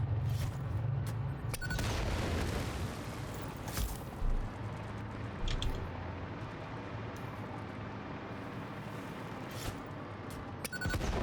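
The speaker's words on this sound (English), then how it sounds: "I thought they might blow up bigger, because they have a bigger, like, obvious explosion radius" A few muffled explosions go off in the factory-building video game Satisfactory, with soft booms and bursts of rumble spread over a low, steady background hum.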